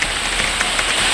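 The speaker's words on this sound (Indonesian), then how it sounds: "Hujan pasir ya Allah." Volcanic sand pours down from the sky during a Merapi eruption, making a loud, steady, dense hiss like heavy rain pattering on surfaces all around, with no break.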